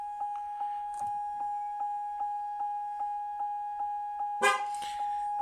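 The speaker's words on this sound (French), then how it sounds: "Ça klaxonne." A Corvette C6 horn honking during a tire pressure sensor relearn, a tonal buzz that repeats at a steady regular pace about a dozen times, ending with a louder, harsher honk.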